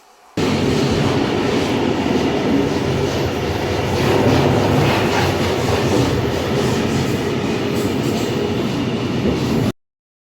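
A passenger train rolls along the rails toward Lake Bled, heard from on board as a loud, steady rumble with continuous clatter that fades in and cuts out abruptly at the end, no voices present.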